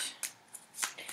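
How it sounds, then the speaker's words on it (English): A deck of tarot cards is shuffled by hand in several quick riffling bursts with short pauses between, close and crisp, with no talking. "So I just like to shuffle the deck till, I hear the word stop or a card might pop out."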